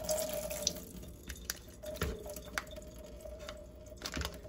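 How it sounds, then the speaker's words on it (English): Water trickling and dripping as a cut package of watercress is drained over a sink, a soft uneven running sound with a few small splashes, close and fairly quiet. "I'm just cutting this so I can let the water out."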